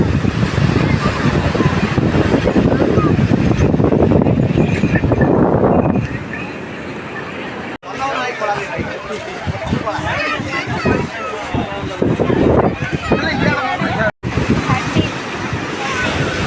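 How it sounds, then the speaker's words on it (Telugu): Ocean surf at Gopalpur beach in Odisha roars loudly and steadily with heavy wind buffeting the microphone, then drops to a quieter wash of waves while someone talks over it. "సో ఈరోజు అయితే మనము గోపాల్పూర్ దగ్గర బీచ్ దగ్గర అయితే ఉన్నాము"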